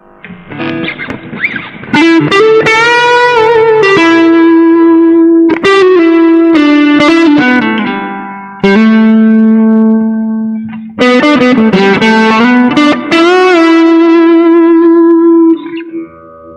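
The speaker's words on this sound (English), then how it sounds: "let me put some distortion on it" An electric guitar with heavy distortion plays sustained, gritty notes and chords, loud and ringing with short breaks between phrases.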